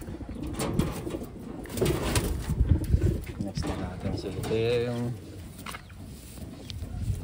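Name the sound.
pigeons cooing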